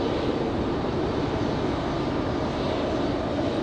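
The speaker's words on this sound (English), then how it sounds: "As Air France hits the runway." An Air France airliner touches down on the runway at Raleigh-Durham International, its engines producing a loud, unbroken roar of broadband noise that holds steady throughout.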